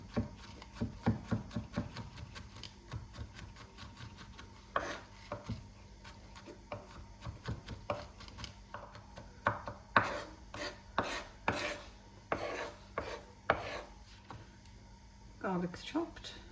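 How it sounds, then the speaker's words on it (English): Garlic being chopped with a small knife on a board, a run of quick, close taps in irregular bursts, some rapid and some spaced out, with a person talking in between. "Garlic's chopped."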